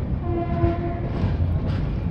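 The Dhauli Express rumbles along after leaving Balasore, running about two hours late, with a steady heavy roar of wheels and carriages and a short horn-like tone near the start.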